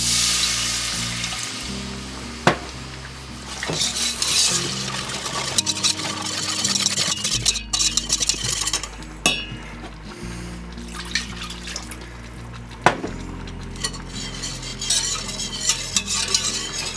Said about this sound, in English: we're just going to cook out that flour, and then we'll add the milk